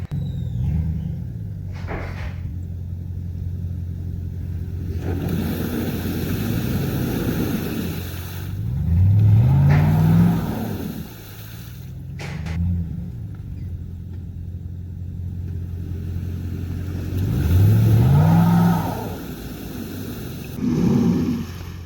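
Ford F-150 FX4 pickup stuck in an offroad mud hole, its engine idling low and then revving in several rising surges that fall back, each burst louder than the idle.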